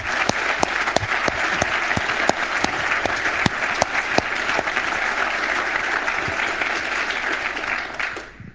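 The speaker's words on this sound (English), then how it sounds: "So if we could give her a round of applause too." A conference audience claps in a sustained round of applause, with many hands producing dense, even clatter mixed with a few sharper individual claps, fading out at the end.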